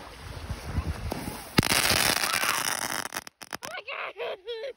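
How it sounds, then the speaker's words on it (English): Bottle rocket fireworks go off outdoors at a Fourth of July fishing outing. A sharp pop is followed by a burst of crackling hiss, and excited voices talk near the end. "Those are big bottle rockets."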